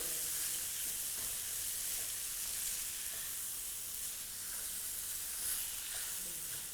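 Tomatoes sizzle steadily in butter with onions for pav bhaji, a dense, even frying hiss that fills the whole stretch with faint stirring scrapes underneath and no talk.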